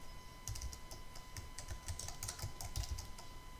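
Quick, soft keystrokes on a computer keyboard entering text into an Excel cell, an uneven patter of close clicks over a faint steady hum.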